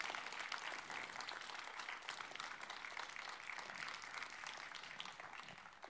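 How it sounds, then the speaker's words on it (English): Audience applause at a journalism award ceremony, the Lorenzo Natali Media Prize, a faint, crackling spread of many hands clapping steadily that tapers slightly toward the end. "More rounds of applause,"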